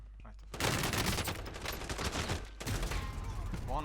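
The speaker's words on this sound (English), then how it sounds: "I've heard firing" Dense automatic gunfire and bursts from a Call of Duty Warzone firefight, loud and continuous, with a short lull just before the shooting resumes.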